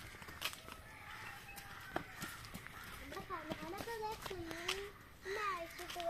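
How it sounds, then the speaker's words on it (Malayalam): Faint high chirping of a young chick repeats several times in the second half, with outdoor background noise and voices nearby. "ഒരു കോഴിക്കുട്ടി."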